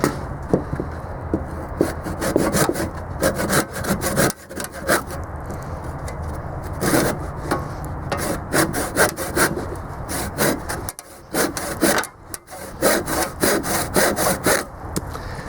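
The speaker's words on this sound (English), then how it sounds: "let's try the Harbor Freight saw." A Harbor Freight hand saw cuts through wood in steady back-and-forth strokes, a close, rasping rhythm that pauses briefly near the end before resuming.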